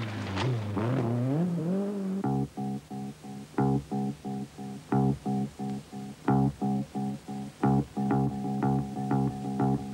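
Rally cars from the 1982 Acropolis Rally in Greece, arriving back in Athens at midnight, pass one after another with a series of short, close engine bursts and revs in a choppy, repeating rhythm, with no talk.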